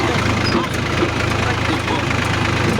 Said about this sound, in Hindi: जा रहे हैं हम ट्रैक्टर में बैठ के आज खेत पे